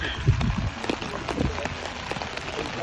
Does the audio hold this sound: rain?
yes